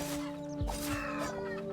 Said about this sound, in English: What on earth was that? Oh, it's chicken.